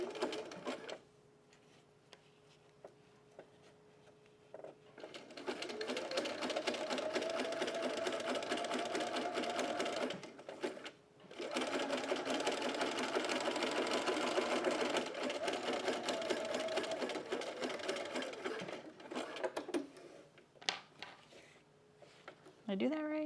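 Two long runs of steady whirring come from a sewing machine stitching the second row on a bralette, separated by a brief pause, while a person talks quietly.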